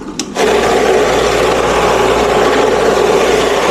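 A 9 lb vibratory rock tumbler loaded with rocks switches on after a brief knock and then keeps up a loud, steady, close buzzing hum with a constant rattle.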